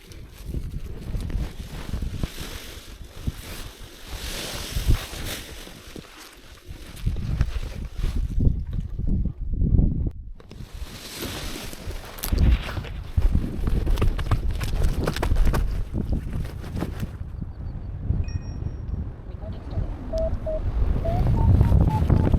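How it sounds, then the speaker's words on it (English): Strong gusting wind at a paragliding launch site buffets the microphone, producing rough, uneven roaring and rustling that swells and fades over about twenty seconds, with no talking. "The wind was raging and it was really difficult to take off."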